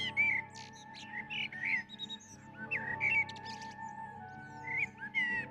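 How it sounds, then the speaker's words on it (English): A small bird chirps and tweets in short repeated bursts over a soft sustained musical background, with no one speaking. "First, I saw a bird."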